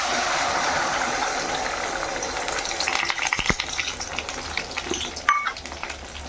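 An egg drops into hot oil and fries with a loud, continuous crackling sizzle. Later a few utensil clicks and scrapes are heard, and no one speaks.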